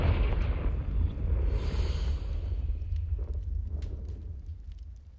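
A Confringo spell explosion in Hogwarts Legacy: a loud, rumbling blast that swells and then slowly fades, with a few faint crackles trailing off at the end.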